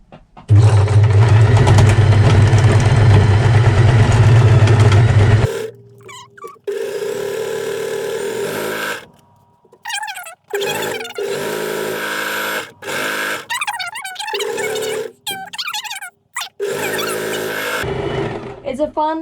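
A sewing machine stitching scrunchie fabric runs in a loud steady buzzing burst for about five seconds. Afterward come shorter intermittent whirs mixed with talking and gaps of quiet.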